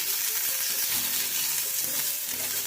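Tomatoes frying in a pan over a medium flame for a Bengali flat bean (shim) dish, giving a steady, close sizzle with faint stirring taps and no talk.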